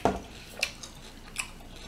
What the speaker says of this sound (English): The broccoli still have a nice crunch to it.